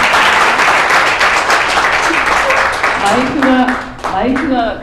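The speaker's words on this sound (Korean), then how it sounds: "여러분 다시 한번 큰 박수로 맞이해 주시기 바랍니다." Audience applause at a book launch event, a dense sustained wash of many hands clapping from a seated crowd, with voices starting to talk over it toward the end.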